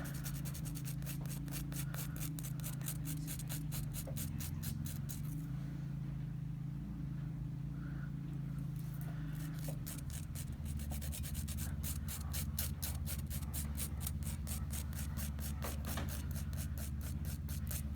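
An electric nail file grinds down dip powder on a fingernail in a steady, continuous buzzing rub, close and fairly quiet, with the pitch shifting slightly partway through.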